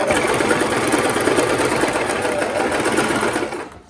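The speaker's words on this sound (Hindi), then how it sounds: "बिल्कुल बीचों बीच सिलाई लगाइए" A sewing machine stitches a center seam on palazzo pants, its fast, steady mechanical whir running close and loud before slowing and cutting off just at the end.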